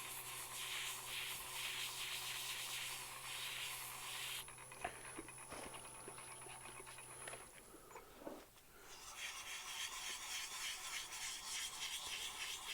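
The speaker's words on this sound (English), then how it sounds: "Just gonna give it a couple of seconds hand sanding real quick." A wooden lotus pod blank is hand sanded with wet-dry sandpaper, giving a steady, close scratchy rasp that pauses briefly partway through and then resumes alone, with no talking.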